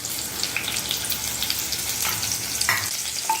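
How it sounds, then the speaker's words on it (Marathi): A bay leaf and two green chillies hit about three spoonfuls of hot oil for a chicken thali, giving a steady close crackling sizzle with a few sharper pops, no voices. "आता यात मी हे तमालपत्र टाकते आणि या 2 हिरव्या मिरच्या घालते."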